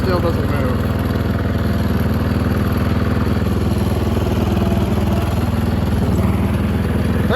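A Snapper riding mower with a slipping clutch, its engine running steadily in gear with a continuous low mechanical drone and some clatter, close and loud throughout.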